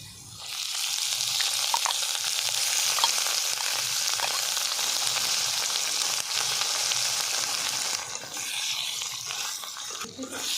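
Ivy gourd chutney, village style, stirred and fried in a pan with garlic, giving a steady loud sizzle with scraping stir strokes throughout and no voice.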